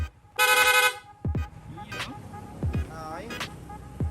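A short, sharp toot from a PIAA horn on a Sniper 155 rings out, followed by scattered clicks and thumps nearby.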